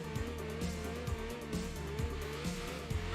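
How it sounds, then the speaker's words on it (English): A racing car engine with dual exhaust in the racing game Enthusia Professional Racing growls and revs continuously on dirt, its pitch rising and dropping in a repeating pattern of quick gear shifts, loud and close. "you can definitely hear the more aggressive exhaust note as well"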